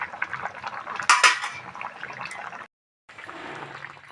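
Cooked potato and stem curry with mung dal bori poured out of a pot, with metallic scraping and clinks plus a wet slosh. A short silence follows, then quieter clatter.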